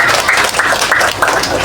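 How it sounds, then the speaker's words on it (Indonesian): An audience at a Hindu community talk claps steadily in dense, continuous applause that fills the room and rises and falls slightly in waves, loud and close throughout. "Tepuk tangan Bapak Ibu"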